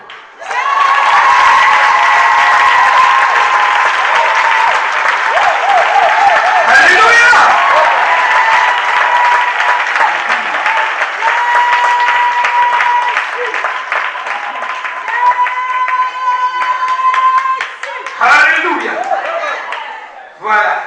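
A church congregation bursts into sustained loud applause and cheering acclaim as a pastor is appointed, the clapping dense and continuous for about seventeen seconds before thinning into scattered claps and crowd murmur.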